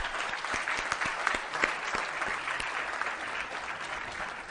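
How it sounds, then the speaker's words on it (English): A conference audience at the Alief International Conference applauds together, a dense, steady clapping that carries evenly throughout. "A big clap to Rama Devi Garu."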